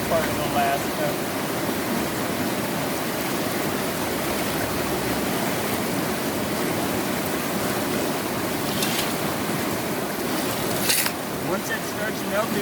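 A fast-flowing river in Alaska, swollen and rising with snowmelt on a warm day, gives a steady broadband rush of water that stays close and continuous throughout.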